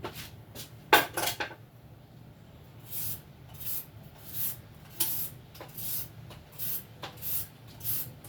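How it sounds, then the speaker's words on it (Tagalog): Carrots are peeled by hand in a kitchen, with soft repeated scraping strokes and a few light clinks of a utensil, quiet and close, with no talk. "So, babalatan natin muna itong carrots."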